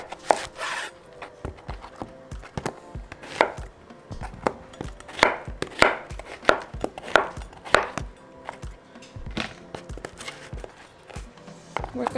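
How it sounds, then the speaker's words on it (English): A knife cuts squash into halves on a cutting board for a mole de olla, with a series of irregular sharp chopping thuds spread across the stretch, close and clear, with no talk. "I'm just going to get my squash and cut them in half in little moons"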